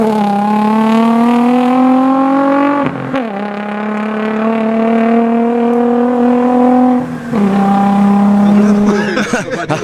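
Race car engine at a hill climb, with a problem at the rear, holding a steady loud drone that rises in pitch, then cuts briefly at each of two gear changes with a clunk before pulling again; faint voices sit underneath.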